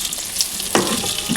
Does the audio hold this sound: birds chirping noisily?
no